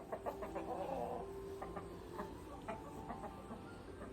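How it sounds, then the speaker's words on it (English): A large rooster held on someone's arm clucks softly in short, uneven bursts at close range, with quiet farmyard background and no talking. "What a big rooster he is."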